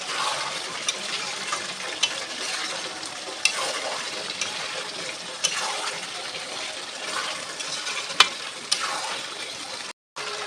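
Meat curry with potatoes being stirred and sautéed in a pan, giving a steady close sizzle and frying hiss throughout with occasional scrapes of the spoon, briefly cutting out near the end.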